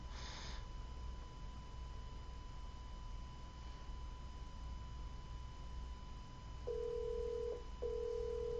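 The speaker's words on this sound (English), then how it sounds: "My phone is ringing." Telephone ringing during a live show: an electronic phone tone comes on near the end as two steady beeps, the first longer, over a faint constant background hum, with no voices.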